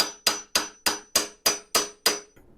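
Seven evenly spaced, sharp metallic hammer blows strike a Tusk preload adjustment tool set against the steering neck of a Happyrun G300 Pro electric dirt bike, close and loud with no talking.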